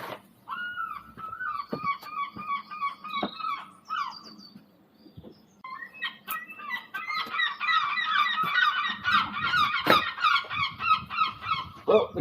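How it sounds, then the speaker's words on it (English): Gulls calling excitedly beside a fishing boat, a burst of honking, yelping cries at first that grows into a dense, continuous squabbling chorus of many birds, loud and near, over low background rumble. "Well, the gulls know it's time to go fishing."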